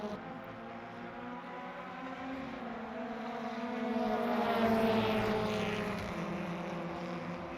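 Several touring cars race side by side on the final lap of a BTCC-style round at Silverstone National, a continuous layered engine roar that swells toward the middle as the pack passes nearby, with no voices.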